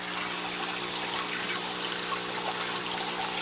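Water flows steadily through a pipe in an aquaponics greenhouse system, a continuous close trickling wash with a faint steady hum beneath, no talk.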